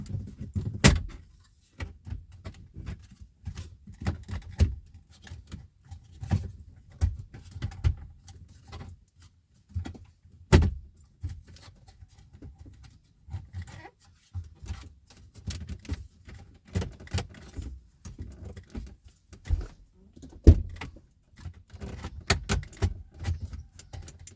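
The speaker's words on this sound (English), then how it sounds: "Start at one end, preferably the passenger side, and gently pull it away from the dashboard." Clipped plastic dashboard trim on a Kia Sportage being pried loose, a string of sharp clicks, snaps and light rattles spread over the clip, close and fairly quiet in a still car interior.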